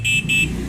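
Two short, high buzzing horn beeps in quick succession, thin and fairly weak, from an E-Motorad Doodle V4 electric bike horn, over a low engine hum.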